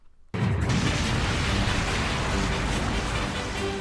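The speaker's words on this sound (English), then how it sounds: "Viridian City Pokemon Center gets absolutely blown up" A huge anime explosion as a massive Pokémon Center building in Viridian City is blown apart by Pikachu's power, a sudden loud blast that rolls into a sustained, dense roar of rumbling destruction.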